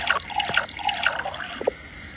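Water poured in short trickles and drips against a steady hiss of background noise, with no one talking.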